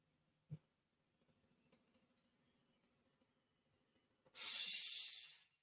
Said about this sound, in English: must have had a slow leak in the hose somewhere